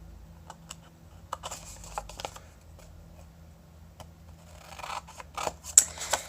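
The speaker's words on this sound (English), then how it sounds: "you're going to take and just cut out one of the squares along the crease lines" Scissors snip through a paper square along crease lines while making a corner bookmark, giving a series of short, close crisp cuts and light paper rustles with uneven pauses, growing busier toward the end.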